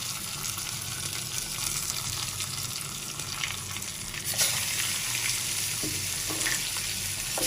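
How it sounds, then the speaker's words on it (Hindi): Coarsely crushed raw mango frying with spices in a pan for a keri chutney, giving a dense, even sizzle with a low rumble, close and steady, plus a few stirring knocks toward the end. "3 मिनट तक फ्राई करेंगे मसालों के साथ"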